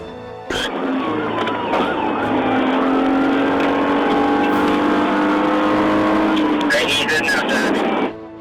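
A police car siren wails loudly and steadily for about eight seconds during a chase through heavy rush-hour traffic in Chattanooga, with Tennessee Highway Patrol joining the pursuit.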